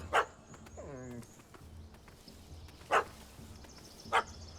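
A dog in The Witcher 3 barks three sharp, separate times at spaced intervals, with a brief whining yelp near the start, set over quiet outdoor game ambience.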